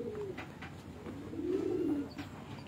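Pigeons coo on a rooftop in Multan, soft throaty rolling calls repeating close by, one longer coo swelling in the middle, with faint background noise and no speech.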